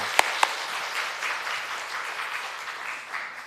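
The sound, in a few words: church congregation applauding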